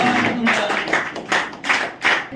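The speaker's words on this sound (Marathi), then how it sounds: "सर्वांनी टाळ्या वाजवले" Students at a police-recruitment academy clap together in a series of rhythmic bursts that swell and dip roughly every half second. The sound is close and fairly loud in a room.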